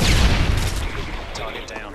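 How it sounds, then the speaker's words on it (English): Stun grenade going off in Modern Warfare 2, a loud broadband burst at the start that fades into a dull ringing roar, with faint game sounds trailing after. "Tossing stun grenade."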